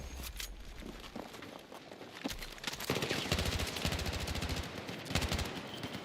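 Gunfire in the Battlefield battle royale Redsec rings out as rapid bursts of shots, sparse at first then a dense rattling volley, with footsteps and movement sounds mixed in.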